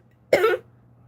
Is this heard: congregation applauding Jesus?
no